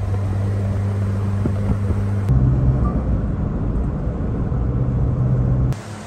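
A 1100HP Honda-powered street car launches at a drag race; a loud, low engine drone with tonal hum holds, then shifts to a harsher roar as the car pulls away, cutting off abruptly near the end.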